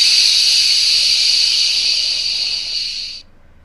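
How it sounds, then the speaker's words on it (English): An SN-PIXEL V4 lightsaber lets out a loud, steady steam-like hiss that fades slightly and then cuts off sharply near the end, leaving near silence. "it does really look like that it is steam escaping"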